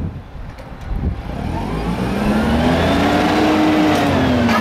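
A Toyota 5FGCU25 propane-powered forklift with cushion tires runs its engine nearby, idling and then rising into a loud, sustained rev that holds steady to the end.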